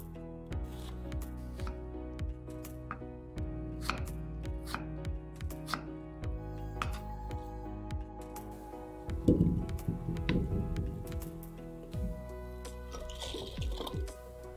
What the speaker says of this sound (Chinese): 再准备一个苹果，去皮后呢也切成小块。